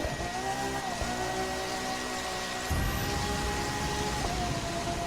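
A car drifts across a frozen, icy track in The Crew 2. A steady engine drone carries a tire hiss, then a rougher, louder slide takes over partway through and continues to the end.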